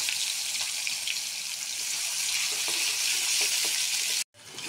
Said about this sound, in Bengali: এখন আলুটা একটু লাল লাল করে ভেজে নেব।